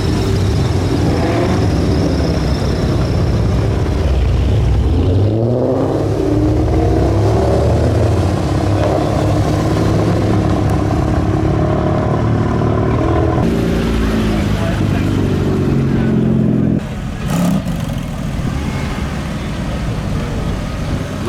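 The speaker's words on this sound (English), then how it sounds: "The other RS4 convoy rolling out." Several show cars, including Audi RS4s, pull away one after another at a car show, engines revving and droning loudly nearby, with people talking over the steady motor noise.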